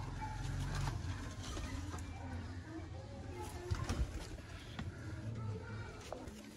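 A breeder female pigeon coos softly in low repeated phrases, close by, with someone speaking over it.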